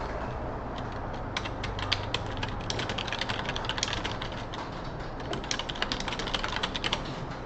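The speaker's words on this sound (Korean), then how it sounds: "이런 식으로 타이핑해서 넣을 수가 있고요." Quiet, steady clicking of keys on a computer keyboard, a rapid irregular run of soft taps over a faint background hum, with no talking.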